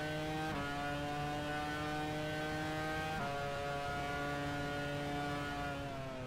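A race car engine in the F1 Challenge 99-02 racing game, its note swapped for a tonal alert sound, holds a steady buzzing pitch that drops sharply at each gear change, loud and alone.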